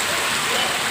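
Heavy rain pours down over farmland in a dense, unbroken hiss, loud and close, with no pauses and no voices.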